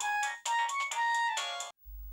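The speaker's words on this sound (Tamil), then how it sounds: "ஃபோன்." Phone ringtone in a Tamil TV serial scene, a bright electronic melody of several clear tonal phrases played close and loud, stopping abruptly after under two seconds.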